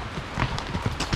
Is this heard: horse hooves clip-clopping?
yes